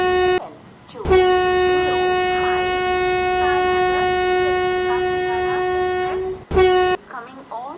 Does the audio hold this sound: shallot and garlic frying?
no